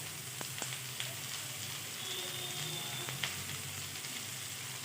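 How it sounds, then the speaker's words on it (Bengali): Bottle gourd with slit green chillies and turmeric fries quietly in a pan, a soft continuous sizzle with a few light clicks from the utensil. "লাউটা এখন তিন থেকে চার মিনিট ভেজে নিব"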